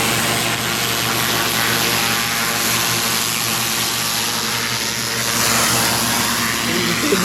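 A pressure washer with a turbo nozzle blasts stripper and failed sealer off pavers, giving a steady, loud hissing roar over a constant motor drone that runs unbroken throughout.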